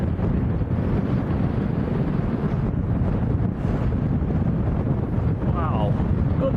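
Strong gusty crosswind at Lanzarote airport roars continuously and loudly into the microphone, a dense rushing buffet with no letup.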